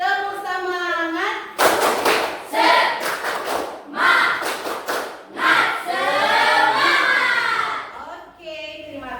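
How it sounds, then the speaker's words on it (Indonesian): A group performs the Indonesian 'tepuk semangat' spirit clap, bursts of rhythmic clapping in patterned sets alternating with a leader's voice calling and talking between rounds. "Tepuk semangat."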